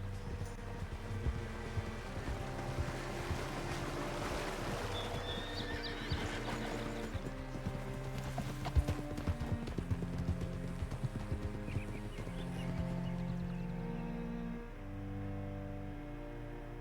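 Horse hooves clip-clop steadily in a video game, with a horse neighing, all set against continuous background music and ambience for the whole stretch.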